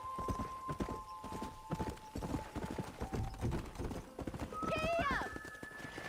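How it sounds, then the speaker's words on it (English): Horse hooves clip-clopping at a riding pace in Red Dead Redemption, a close, regular beat under people talking, with a brief whinny near the end. "let's see if you can still ride a horse"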